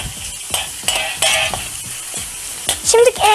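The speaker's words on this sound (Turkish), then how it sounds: "Ve güzelce kavuruyoruz." Meat for tantuni sautés in oil in a pan, with a loud sizzle broken by rhythmic scraping and stirring strokes close by and a few sharper clinks toward the end.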